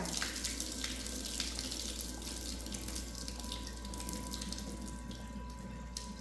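A faucet pours a steady stream of water into a container for a Ninja Slushi frozen drink, producing a constant close hiss and splash with a low hum underneath.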